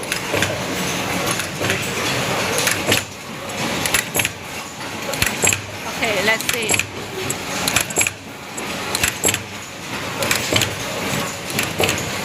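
A QLQ-HPM automatic plastic zipper hole punching machine runs while making number 5 plastic zipper, giving a steady clattering, mechanical rhythm of repeated punches and clicks; a person speaks briefly over the machine noise.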